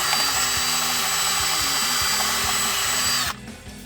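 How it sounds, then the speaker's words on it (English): A power drill bores a hole into a Ford F-150 J&L oil separator canister casing with a loud, continuous high whine and a rattly grinding undertone, then cuts off abruptly near the end. "Drill a second hole into your battery casing."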